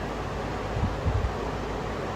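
Fan running in a garage, a steady broadband whoosh of moving air with faint low thumps near the middle, constant and moderately loud.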